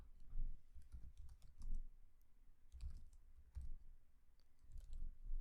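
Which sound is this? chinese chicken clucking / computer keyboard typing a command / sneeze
computer keyboard typing a command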